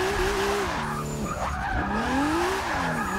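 An all-white Toyota Supra in a racing video game, engine revving up and down through gear changes while tires squeal and skid, close and continuous.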